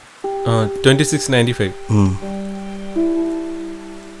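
Rain falls steadily during a Malayalam short film scene. Someone speaks briefly over the rain, and a low steady hum lingers as the talk stops.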